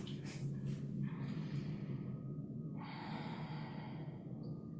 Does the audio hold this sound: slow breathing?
yes